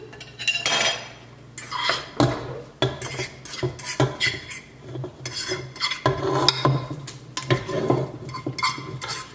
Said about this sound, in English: throw in my fried veggies. Give it a nice quick stir.